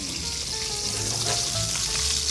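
Chicken pieces fry skin side down in a pan over low heat, for a mushroom butter sauce dish, giving a steady, close sizzle that holds evenly throughout with no talk.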